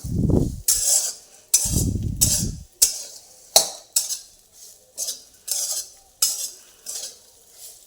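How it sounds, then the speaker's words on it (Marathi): Soybean fry being stirred in a pan, a spoon scraping and clinking against the metal in repeated strokes, with a few heavier broad scrapes early on and faint sizzling between them; close and fairly loud, no talk. "परत असं हलवायचं छान. मग छान फ्राय होतं."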